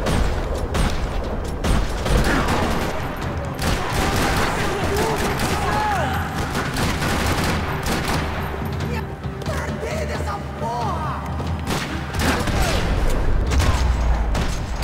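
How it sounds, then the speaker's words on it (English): Heavy, continuous gunfire from the shooter game Max Payne 3, with dense bursts of shots, crashes and booms layered loudly together while someone talks over the action. "Hier wird doch geballert irgendwo."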